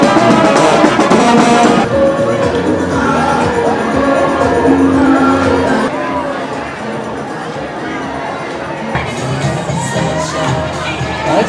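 A crowd cheering and shouting as a street parade passes in the French Quarter of New Orleans, a dense, loud wash of voices and whoops that eases slightly partway through, with talk mixed in.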